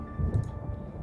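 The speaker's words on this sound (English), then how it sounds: "I love thunderstorms." Thunder in the video game Nancy Drew: Trail of the Twister, a low muffled rumble swelling briefly and then fading, faint beneath a soft steady background tone.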